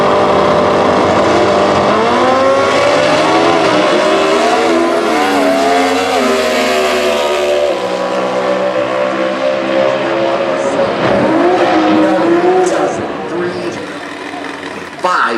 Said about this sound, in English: that Dragster will be doing the chase